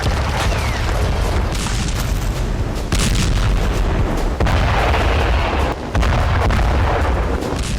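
Explosions from attacks on the Gaza Strip during the Israel-Palestine war, loud booming blasts with rumbling bursts recurring throughout.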